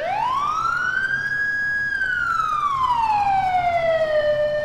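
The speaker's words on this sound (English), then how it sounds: "I'll turn the siren off, maybe" Police car siren in the LCPDFR video game, a single loud wail sweeping up, holding a high tone, then sliding back down, steady and alone over a low hum.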